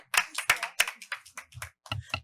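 A few people clapping at a town council meeting, sparse and uneven handclaps close by, brief and fairly quiet in a small room.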